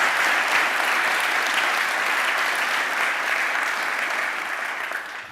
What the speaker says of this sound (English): How about a final round of applause for all three of these guys?